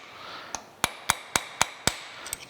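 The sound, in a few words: hammer tapping a transfer punch into metal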